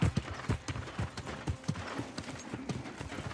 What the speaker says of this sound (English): my horse is jumping straight up a waterfall